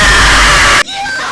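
A loud, raw scream from a young streamer, a single sustained yell that breaks off suddenly, followed by quieter room sound.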